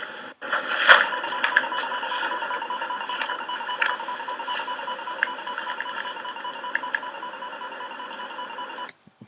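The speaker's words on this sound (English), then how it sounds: "I'm going to cut out that one section where the alarm's going" An alarm clock rings steadily and continuously for about eight seconds, a bright electronic ringing at moderate level with no talking over it, then it cuts off abruptly.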